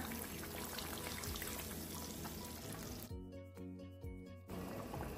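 Coca-Cola pours steadily into a cooking pot of carnitas with bay leaves, garlic, onion, orange and orange juice, a dense continuous splashing gush that briefly thins near the end before resuming.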